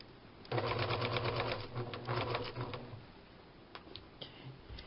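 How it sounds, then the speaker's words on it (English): A sewing machine runs fast in one continuous burst of about two and a half seconds while stitching fabric holiday gift bags with the needle down, then stops; a few faint clicks follow. "I think I'm going to sew with the needle down."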